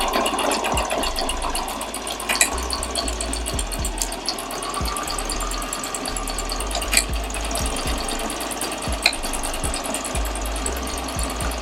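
Sewing machine stitching a fabric face mask, a continuous fast mechanical whir with periodic clicks, close and alone.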